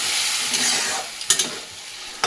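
Potatoes and beans with ground spices, ginger, green chilli paste, turmeric and salt being stirred in a hot pan, a steady close sizzle broken by a few sharp scrapes of the spoon, with no voices.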